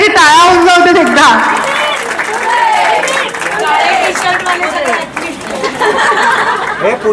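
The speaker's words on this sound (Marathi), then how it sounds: "यांच्यासाठी टाळ्या होऊन जाऊ देत एकदा" Applause and clapping from an audience at an athletes' felicitation ceremony, steady and fairly loud throughout, mixed with crowd chatter and a voice talking over it.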